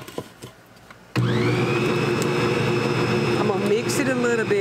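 An electric mixer whirs into tea cake sugar cookie dough after a quiet stretch, starting abruptly and running at a loud, steady drone with slight wavering pitch for several seconds.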